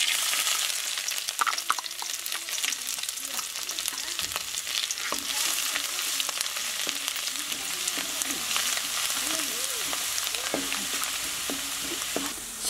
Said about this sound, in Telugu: కొంచెం ఆయిల్ వేసుకుందాం, చాప్డ్ జింజర్ గార్లిక్ వేసుకుందాం